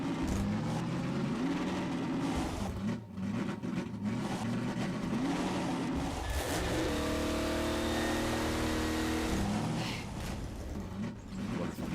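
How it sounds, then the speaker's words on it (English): Car engine revving in the video game Half-Life 2, a steady loud mid-pitched drone that climbs and surges through shifting gears, holding a sustained high rev near the end. "Is the car engine a bit too loud?"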